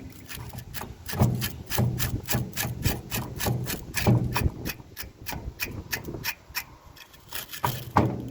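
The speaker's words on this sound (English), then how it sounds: "Just hit them with a wire brush." A wire brush scrubs bolts and nuts from an old lawn mower engine in fast, rhythmic rasping strokes, close by and fairly steady with short pauses.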